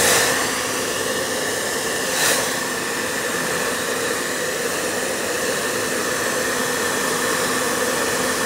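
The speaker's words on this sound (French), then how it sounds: "Alors, c'est un sèche-cheveux tout simple." Old hair dryer with its nozzle removed blowing hot air onto a PS3 console, a loud steady whooshing roar with a faint whine, running continuously and close.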